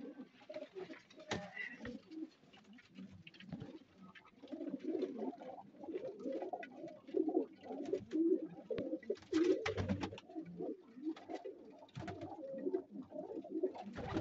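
Domestic flying pigeons coo steadily throughout, a continuous low warbling chorus of several birds close by with soft rustles and clicks, no talk.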